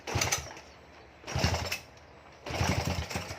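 A fuel-injected motorcycle engine that would not start fires up after repair work, catching in three rough, loud bursts of sputtering with short gaps between them, close by.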